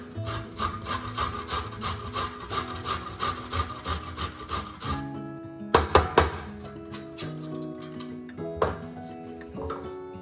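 A knife minces fresh ginger in a rapid, steady run of close scraping strokes, then slows to a few sparse, louder knocks, with no talking.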